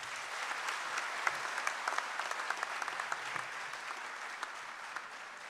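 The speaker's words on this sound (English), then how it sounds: "a huge round of applause for all of us" A university auditorium audience applauding, a continuous wash of many hands clapping at an even level with occasional sharper individual claps standing out, somewhat distant and with no voices over it.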